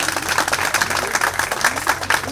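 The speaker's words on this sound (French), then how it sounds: "Il faut applaudir." Applause from an audience at a graduation ceremony, dense and steady for a couple of seconds, a wash of many hands clapping at moderate distance with no voices standing out.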